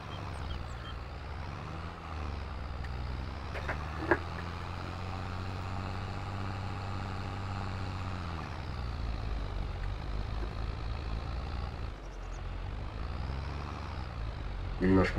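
A loaded tractor with a trailer drives across a field in Farming Simulator 22, its engine a steady low drone that dips and rises, with faint clanks and a brief beep.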